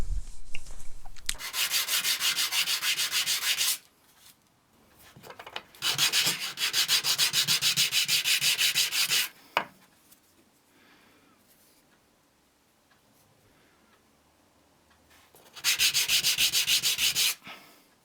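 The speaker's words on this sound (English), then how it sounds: "removing the bulk of the excess material on the bench sander" Bench sander grinding a walnut wood ring wrapped around a gold wedding band, three separate bursts of bright abrasive rasping, each a few seconds long, with quiet gaps and small handling noises in between.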